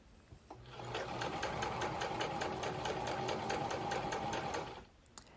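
A sewing machine runs in one steady continuous burst for about four seconds while stitching a port pillow, with a quick start, an even rapid needle rhythm throughout and a short stop at the end, close and alone.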